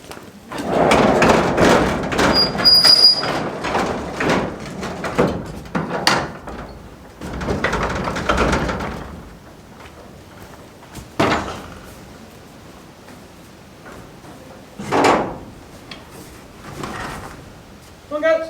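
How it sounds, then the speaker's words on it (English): A wooden barn door on a goat farm is dragged and banged shut in several heavy sliding scrapes and thuds, with a person talking throughout. "Got to close this gate, or this door first."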